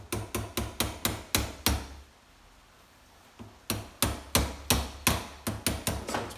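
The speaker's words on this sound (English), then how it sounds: "make sure you drift your pin back in so it's in there correctly" Steady, rhythmic hammer taps on metal, about two per second, drifting a sight pin into a Ruger 22/45 pistol, pausing briefly in the middle before resuming at the same even pace.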